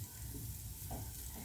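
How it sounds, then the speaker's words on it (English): Plantains sizzle gently in a pan over low heat, a steady soft crackle and fizz with a brief stir-like scrape midway. "When you are pan frying plantains, it's important to do it on low heat"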